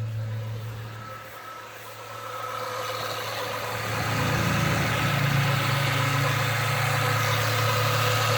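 A 1996 Ford Mustang engine idles steadily close by, a low hum carrying a sustained higher alternator whine, the engine note rising slightly and holding louder through the second half.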